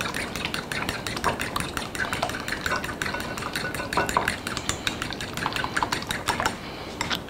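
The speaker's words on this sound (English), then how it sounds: "Got me a couple of eggs here. Just gonna beat them up real good." Two eggs beaten briskly in a bowl for a banana cake batter, a fast, close, even clatter of utensil on bowl that runs without a break and has no talk over it.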